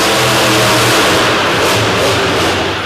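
A monster truck's Oldsmobile-powered engine roars loudly and continuously at a Monsters of Destruction event in Corbin, Kentucky, the throttle swelling and easing as it races around the arena, with no voices over it.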